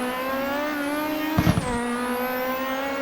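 A Zakspeed Capri Group 5 race car in the Assetto Corsa racing game, engine howling at high revs with a brief gear-change dip and rising pitch sweeps, loud and close throughout.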